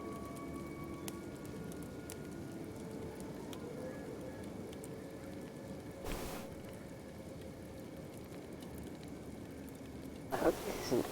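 Steady rain falls in the video game Kenshi, a continuous dense hiss holding at an even level throughout, with a brief swell midway and a louder patch of clatter near the end.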